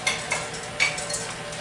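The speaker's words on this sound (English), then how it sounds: "I put 1 egg in at a time," An egg being stirred into a cheese mixture in a bowl, a few soft scraping and clinking strokes of utensil against the bowl, close by and quiet, with no talking.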